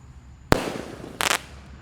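Two sharp, loud shots from a multi-shot firework cake being lit outdoors, each a crisp bang with a crackling tail, spaced about three-quarters of a second apart over low background noise.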